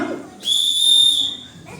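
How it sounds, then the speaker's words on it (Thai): A single long, loud police-style whistle blast from a traffic officer drill, steady and shrill for about a second, trailing off, alone without talk. "สัญญาณนกหวีดยาวหนึ่งครั้งครับ"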